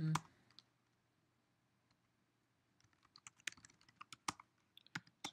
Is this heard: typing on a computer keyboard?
yes